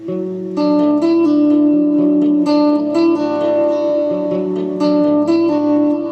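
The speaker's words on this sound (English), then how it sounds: "when you tend to get an accidental pull off" Electric guitar notes ring out in a steady picked phrase, sustained tones overlapping with a bright, clean attack, a string ringing from an accidental pull-off, played alone with no voices.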